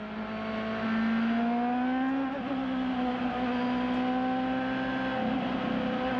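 A CART race car engine at the 1997 US 500, reportedly sounding odd, drones steadily at low revs behind the safety car, a sustained buzzing tone with slight pitch wobbles and no talk over it.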